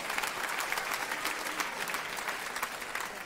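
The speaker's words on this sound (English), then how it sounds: "are you clapping me off?" Audience applause fills the London Palladium theatre, a dense, even roar of clapping from a large crowd that carries on without a pause and with no voices over it.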